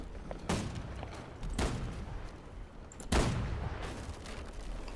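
Cannon fire from a coastal battery striking a boat in the video game Holdfast: Nations at War, three heavy booming impacts spaced a second or more apart over a steady ambient rumble.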